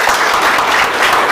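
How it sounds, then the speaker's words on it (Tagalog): Workshop students in a studio audience applaud, a loud, dense burst of steady clapping filling the short moment. "May mga palakpak kami dahil ang dami pong estudyante rito"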